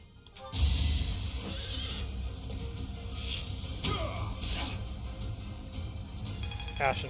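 A horse neighs in the video game Fire Emblem Three Houses, a whinny rising around the one-second mark amid battle effects and game music, with a person talking over it.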